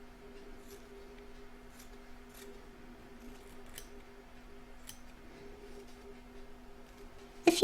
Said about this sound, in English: I'm going to trim up all the excess fabric from around the edge